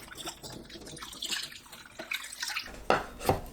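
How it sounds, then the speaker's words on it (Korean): Wild chive roots are rubbed clean under running tap water, giving soft splashing and dripping close by, with a couple of sharper splashes near the end and no speech. "깨끗하게 3번 씻어줍니다. 뿌리 부분을 비벼가면서 씻어주시면 돼요."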